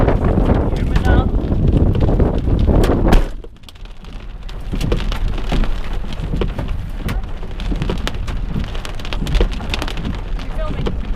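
Hail hammers down in a loud, dense clatter of countless hits, joined by wind buffeting the microphone. It drops briefly quieter after a few seconds, then keeps pelting steadily.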